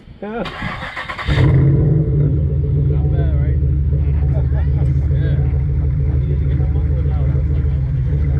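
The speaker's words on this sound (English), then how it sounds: "Well, you got a new exhaust. Yeah. Yeah, I straight piped it. Yeah, it's loud." A car with a straight-piped exhaust starts and then idles and revs loudly, close by and steady. Voices talk over it throughout.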